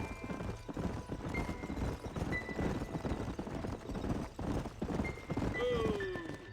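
Horses in the Western video game Red Dead Redemption walk with a steady clip-clop of hooves, moderately close, while a horse whinnies briefly near the end.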